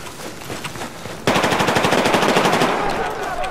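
Battlefield 4 gunfire in a 5v5 competitive match: scattered faint shots, then a sudden loud, rapid automatic burst with evenly spaced rounds that keeps going for over two seconds before easing slightly.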